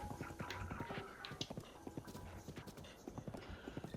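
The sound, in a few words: horse hooves from video game Zelda: Breath of the Wild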